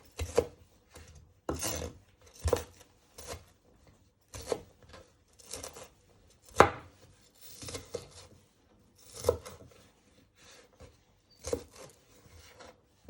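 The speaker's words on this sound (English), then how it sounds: "So you're finely dicing them using your sharp knife." A sharp knife finely dicing shallots on a board, with irregular quick chops and scraping strokes in uneven clusters, close and fairly quiet, alone without talk.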